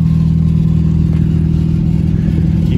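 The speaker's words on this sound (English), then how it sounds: "You can hear the exhaust." A 2007 Jeep Patriot idles with its engine and exhaust running, a steady, fairly loud low drone with a constant hum and no change in pace, heard close and alone.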